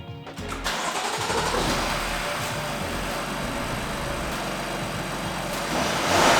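A turbocharged car engine cranks and fires into its first start, settling into a loud, steady idle with a rising rev near the end.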